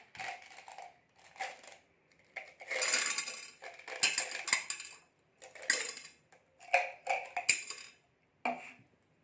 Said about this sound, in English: Now put some seashells into the water.